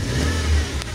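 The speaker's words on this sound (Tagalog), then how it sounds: "maganda pa rin ang kanyang makina" A car engine revs after sitting in long storage, a short, loud, close mid-pitched roar that rises slightly before easing off.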